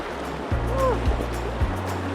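River current flowing through the Narrows in Zion National Park, a steady wash of moving water with a few splashes and sloshes close by.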